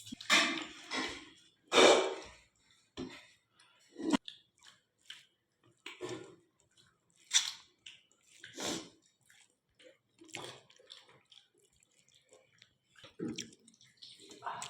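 Someone eats rice with fish curry, with soft intermittent chewing and mouth sounds in irregular bursts, close and fairly quiet, broken by short pauses.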